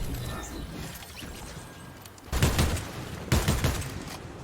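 Pistol shots in a Fortnite-style solo cash cup match: two sharp, loud bursts about a second apart, each ringing briefly, over a low hum of game ambience.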